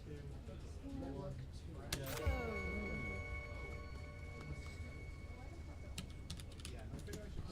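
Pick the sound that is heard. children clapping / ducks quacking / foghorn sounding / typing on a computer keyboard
typing on a computer keyboard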